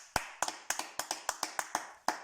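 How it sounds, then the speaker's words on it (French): About ten crisp handclaps from one or two people, close and fairly quiet, celebrate Thilo Kehrer's goal in PSG's 2-0 Ligue 1 win over Stade Brestois, arriving in a loose, slightly uneven rhythm with no talking. "Magnifique, on applaudit."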